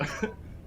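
A single short, harsh cough close to the mic, followed by a faint breathy tail and quiet room noise.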